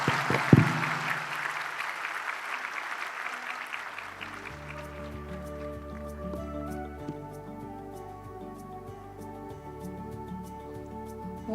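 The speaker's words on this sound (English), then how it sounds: "let us all give a resounding and well-deserved round of applause to our distinguished keynote speaker" Audience at a BSMLS pinning ceremony applauds the keynote speaker, dense clapping for a few seconds that thins and fades out as soft instrumental music takes over.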